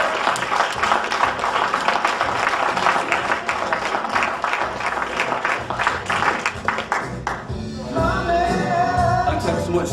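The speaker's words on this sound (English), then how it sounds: "give a massive round of applause to Mr." Audience applause for a speaker at an event in Preston: dense, loud clapping from a crowd for most of the stretch, fading near the end as a voice and some other sound take over.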